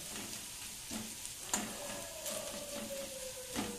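An egg sizzles faintly in a pan, a quiet hiss broken by a few sharp clicks and pops.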